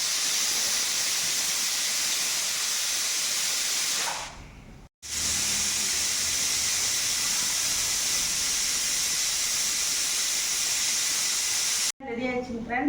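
A pressure cooker on a home stove, cooking rice for chicken biryani, vents steam as a loud, continuous hiss, broken by two brief pauses.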